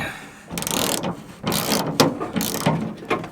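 A ratchet wrench turns a 12-point socket on a bolt at a junkyard, making loud, close, rapid clicking in three or four sustained bursts with brief gaps between pulls.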